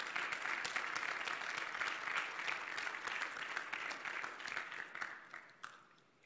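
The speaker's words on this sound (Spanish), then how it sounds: "¿Por qué no le damos palmas a nuestro Dios?" A church congregation applauds together, a dense sustained burst of clapping hands that gradually thins and fades away toward the end.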